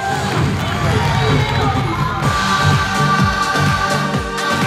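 A large crowd cheers and shouts for a team being welcomed at the opening game of a comedy contest season, loud and sustained with children's shrill voices and whoops, and claps breaking through the noise.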